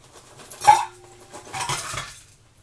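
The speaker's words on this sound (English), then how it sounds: "I'll put some ice in there." Ice cubes dropped into a shaker holding Bloody Mary mix, two quick clinking clatters of cubes against the container, close and fairly loud, with quiet between them.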